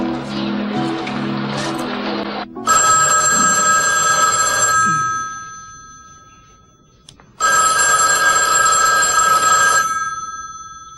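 Telephone ringing in two long, loud, close bursts separated by a pause, preceded by a short stretch of background music.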